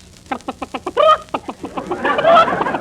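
A hen clucks in a steady run of short, rhythmic clucks, rising into louder, drawn-out squawking calls toward the end, close by.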